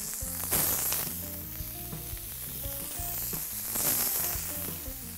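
Bacon-wrapped prawns sizzle loudly in a very hot pan, a close, continuous crackle with bursts of spitting and some clatter of handling over a low rumble.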